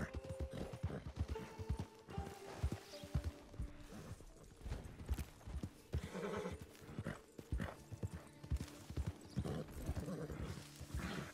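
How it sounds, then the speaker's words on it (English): Horse hooves clip-clopping in the Red Dead Redemption 2 game, a brisk irregular run of close, distinct hoof strikes with occasional whinnies and tack clatter, no talking. "Yeah, the horse won't stop."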